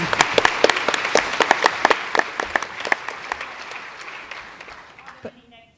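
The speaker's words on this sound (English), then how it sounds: "Definitely deserves a round of applause." A small group at a conference claps briskly, then the applause thins and fades out over several seconds.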